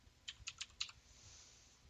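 Keystrokes of a password being typed on a computer keyboard during a Kali Linux install: a short burst of about five quick taps, then a pause and one more tap, close and fairly quiet.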